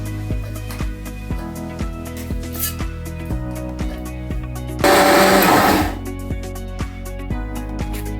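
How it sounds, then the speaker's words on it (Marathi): A kitchen mixer grinder grinds soaked rice for dosa batter, whirring with a rhythmic pulsing churn and then a harsher, louder burst of grinding for about a second before settling back. "तर आता आपण ते मिक्सरमध्ये दळून घेऊया."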